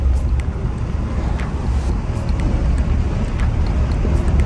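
Steady, loud engine and road rumble from a 1999 GMC Sierra SLT long-bed pickup with a 7.4L 454 V8 on a test drive, continuous low drone with wind noise throughout and no talk.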